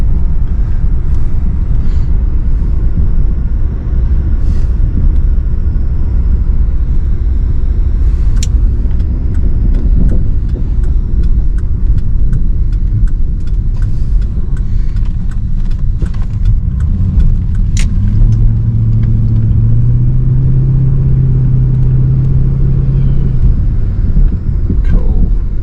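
The old Ford Windsor V8 in an AU Fairlane runs in a steady, loud, close rumble throughout, with a brief rise in revs near the end.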